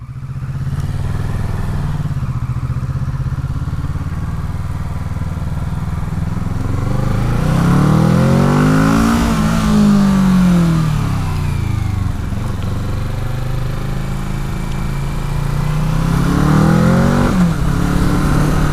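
A car engine revs after stalling, rising and falling in several swells over a steady running rumble, loud and close with no talk.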